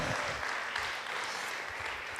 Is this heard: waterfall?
no